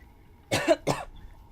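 Two quick, close coughs in succession, dry and sharp, against a quiet room background.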